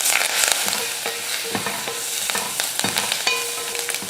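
Mustard seeds and dried red chillies frying in hot oil for Tamil cooking, a steady close sizzle with scattered crackles and pops, plus occasional stirring scrapes and no talking.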